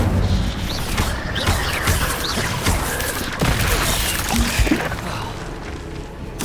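Incendio fire spell cast in Hogwarts Legacy on PS5, a dense burst of whooshing flame and booming impacts within chaotic combat, loud and continuous with crackling hits and faint voice sounds mixed in.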